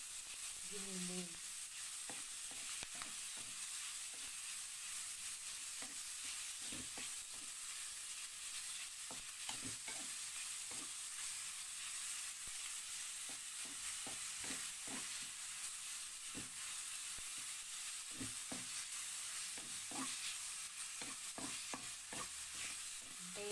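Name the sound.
ground meat frying and being stirred in a pan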